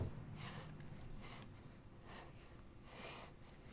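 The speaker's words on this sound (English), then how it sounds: "that was Jodie breathing" Jodie, a character in the video game Beyond Two Souls, breathes in four soft, airy puffs spaced about a second apart, faint and close against a low, steady background hum.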